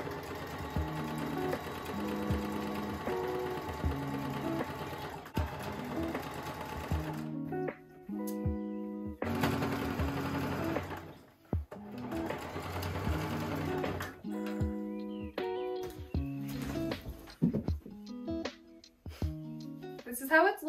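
A sewing machine runs in steady bursts of stitching as elastic is pulled through and locked in place while sewing a matching top, with short pauses between runs and a few quick start-stop pulses.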